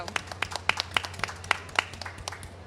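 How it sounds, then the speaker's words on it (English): Audience applause at a farmers' panel event, a short burst of sharp, separate hand claps close by over a low background hum, lasting under three seconds with no talking. "Give him a round of applause."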